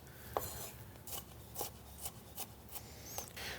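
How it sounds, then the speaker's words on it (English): A knife slices plum tomatoes into strips on a cutting board, giving soft, close, evenly spaced cutting strokes, about eight in a row, over a quiet background. "we're just gonna go ahead and cut right around the core, and I'm just gonna cut these into little strips"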